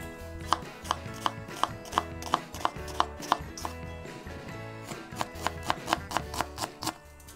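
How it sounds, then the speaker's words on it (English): Onion being chopped on a cutting board with a knife, a steady rhythm of crisp close knocks, roughly two or three per second, over quiet background music. "First, chopped onion."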